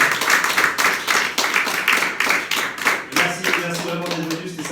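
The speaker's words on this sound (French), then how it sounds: "Est-ce que vous pouvez vous applaudir pour ça?" Audience at a full live French comedy show claps together in a dense, steady burst of rhythmic applause, with a few voices calling out near the end as the clapping thins.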